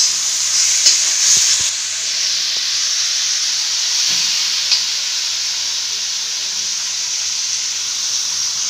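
Boiled chicken and spinach cook in masala in a pan, making a steady, fairly loud hissing sizzle with a few brief stirring knocks early on before settling into a constant simmer.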